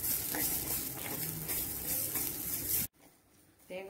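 Garlic, tamarind and coconut fry in a pan with a loud, dense sizzle and scraping stirs, then the sound drops away abruptly to a quiet room near the end.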